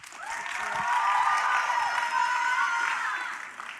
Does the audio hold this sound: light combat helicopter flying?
no